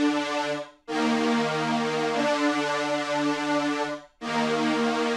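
Wide, chorused synth lead with a smoothed top end plays a repeating melodic phrase, steady and prominent with short gaps between passes, no voices over it.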